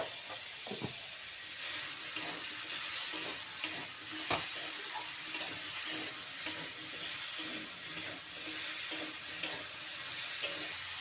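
Pointed gourd (potol) with salt sizzling and frying in a pan, a steady soft hiss with occasional stirring scrapes and pops, close and fairly quiet.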